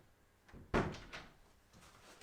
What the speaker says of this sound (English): make sure this door's locked, closed